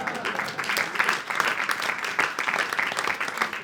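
Applause from an audience at a French political comedy show, a steady dense patter of clapping filling the whole moment at moderate loudness.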